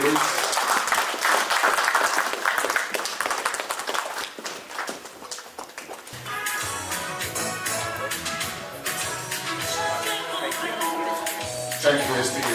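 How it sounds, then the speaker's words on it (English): Gala audience breaking into applause, a broad wash of clapping for the first several seconds that gives way to music and crowd noise in the second half. "Please, can we clap again for STA, please?"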